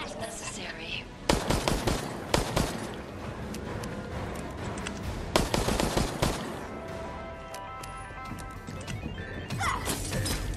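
Video game gunfire: sharp, loud shots in irregular bursts and clusters, some rapid volleys, over a continuous bed of in-game background noise.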